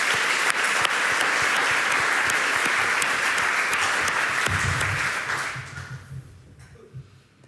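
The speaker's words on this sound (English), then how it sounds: "Can I have an applause for Diewertje?" Steady audience applause for a guest at a talk on grassroots organizing and climate politics, dense and even before fading out gradually over the last two seconds.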